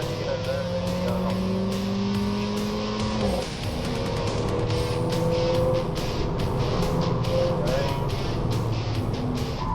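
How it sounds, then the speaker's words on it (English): A race car engine screams and revs hard, pitch rising and falling through gear changes, with a steady loud roar and brief dips as it slows. "They push the car to its limits and make full use of the ABS when cornering."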